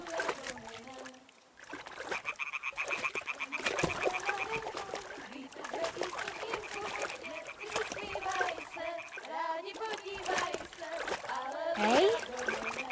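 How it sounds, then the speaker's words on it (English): A stone lands in water with a splash in the video game Kingdom Come: Deliverance II, a brief wet burst amid busy game sound, music and talking voices. "Throw a stone in the water near her to lure her away."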